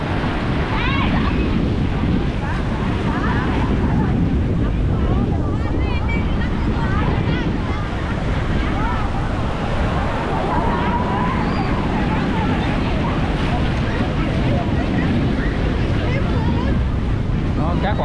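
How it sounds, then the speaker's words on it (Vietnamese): Large ocean waves at Vung Tau beach during high tide, a constant loud wash of surf mixed with heavy wind buffeting, with voices talking faintly underneath. "vẫn còn sóng rất là lớn nha."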